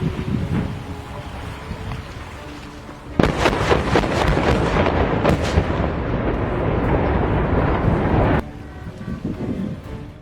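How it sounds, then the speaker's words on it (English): A controlled explosion demolishing the old I-74 bridge in Bettendorf, Iowa: a sudden heavy blast rolls out over steady wind noise, a long rumbling roar with crackling bursts that cuts off abruptly after several seconds. "The controlled explosion destroyed the remains of the old I-74 bridge in Bettendorf, Iowa"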